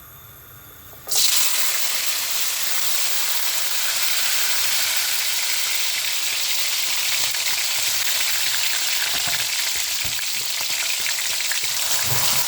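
Green chilli, tomato and shallots dropped into hot coconut oil for a parrot fish masala fry, breaking into a loud, steady sizzle after a second of quiet and hissing continuously up close.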